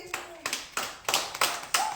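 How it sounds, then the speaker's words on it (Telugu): Children clap in a classroom in short separate bursts, five or six quick rounds of hand claps. The sound is close and moderately loud, with a little voice underneath. "క్లాప్స్ కొట్టండి"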